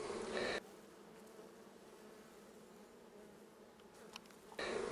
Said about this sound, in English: These are all female worker bees.